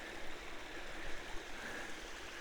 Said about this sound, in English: gives me a nice free ambiance of a stream and cascading water